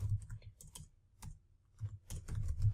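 Computer keyboard typing in quick irregular bursts of clicks with brief pauses, moderately close and fairly quiet, with no talking.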